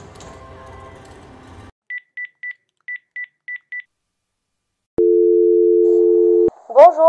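Telephone call being placed: after a stretch of muffled room noise, seven clear keypad dialing beeps sound in quick succession, then a long steady ringing tone, and a voice briefly begins at the end.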